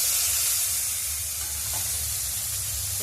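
Fish roe lightly frying in a pan on a clay stove gives a steady, close broadband sizzle with a low rumble underneath, continuous for three seconds with no voices.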